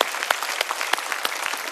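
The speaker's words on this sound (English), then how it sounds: "give yourself a round of applause" A crowd applauds steadily, a dense wash of clapping at even volume that fills the whole moment without pause.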